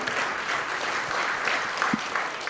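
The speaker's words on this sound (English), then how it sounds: "Ladies and gentlemen, a big round of applause, please, for our panel" Steady applause from a conference audience for a precious metals panel session, a moderate, even clatter of many hands lasting throughout with no talk over it.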